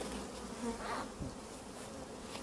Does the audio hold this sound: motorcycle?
no